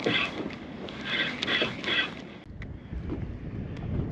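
Westerly wind blowing across a lake, buffeting the microphone with gusty rumble and hiss, strongest in the first two seconds and then easing to a steadier, lighter rush, with no voices.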